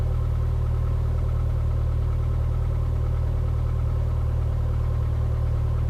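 Engine of a Cessna tailwheel airplane on the runway, a loud, steady, even drone with a constant low hum and no rise or break across the stretch, with no speech over it.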